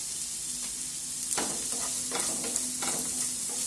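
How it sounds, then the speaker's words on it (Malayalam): Onion and green chilli sauté in a pan with a constant loud sizzle, broken by several scraping strokes of a spoon stirring them. "ഉള്ളിയും പച്ചമുളകും ഇട്ട് കൊടുത്തിട്ടുണ്ട്. അതൊന്ന് വാടുന്നു."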